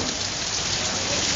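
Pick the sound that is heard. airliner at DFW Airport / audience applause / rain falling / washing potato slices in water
rain falling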